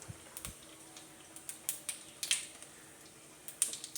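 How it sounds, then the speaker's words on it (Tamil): Mustard seeds popping in hot oil, a scatter of sharp quiet crackles and pops at irregular intervals over a faint background. "கடுகு பொரிஞ்சிருச்சு"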